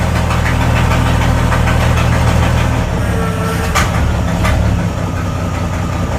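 An old 1965 Chevrolet C10 pickup, long left sitting in a field, idles steadily on its own with a rough, knocking rumble that carries loud and continuous throughout.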